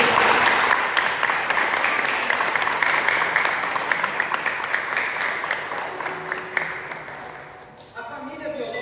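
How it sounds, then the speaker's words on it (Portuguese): A church congregation claps at a Sunday family celebration service, a dense steady wash of applause filling the room, easing off near the end before a brief resurgence. "Você pode aplaudir o nome de Jesus?"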